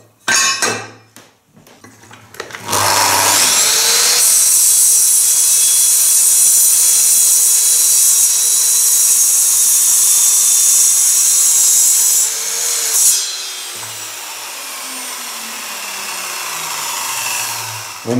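A saw blade not intended for aluminium slices through an aluminium profile after a few clanks of setup, a loud, steady high-pitched cutting scream holding for about ten seconds before the blade winds down with a falling hum.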